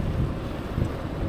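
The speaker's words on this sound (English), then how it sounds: "it's very windy. Again, good wind noise test." Strong wind buffets a DJI Osmo 4 microphone on a windy ride in the Netherlands, producing loud, continuous low rumbling roar with no pause.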